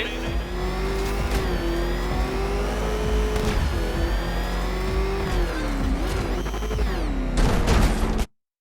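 Batmobile engine from Batman: Arkham Knight revving hard and loud throughout, its pitch swooping up and down with tire squeal and gunfire-like crackles, cutting off abruptly at the end.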